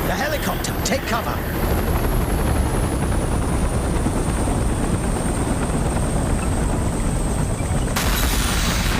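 A helicopter's rotor chops loudly and continuously alongside dense game-style gunfire and effects, with a high whine running throughout and a voice calling out.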